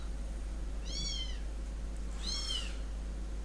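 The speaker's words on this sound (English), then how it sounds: "I got 2 new kittens and they are noisy as hell." Two kittens give two clear meows, each a rising and falling wail about a second apart, close by, over a steady low electrical hum and faint room noise.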